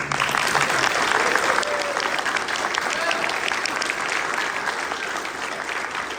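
Audience applause fills a convention panel room for an anime voice-acting panel, a dense steady clatter of many hands clapping throughout, close and loud, with scattered cheers mixed in.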